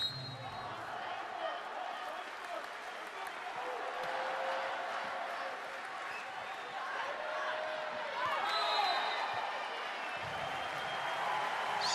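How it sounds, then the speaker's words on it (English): Arena crowd at a women's volleyball European Games semifinal between Turkey and Azerbaijan, a steady roar of cheering and applause building and swelling around the hall, with some clatter and voices mixed in. "And the crowd get going."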